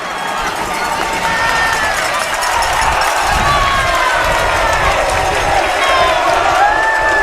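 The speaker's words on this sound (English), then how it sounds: "And this crowd goes wild." A crowd cheers and shouts loudly at a high school water polo game between The Haverford School and Episcopal Academy after a goal, a sustained roar with whistles and whoops in an echoing indoor pool, with an announcer talking over it.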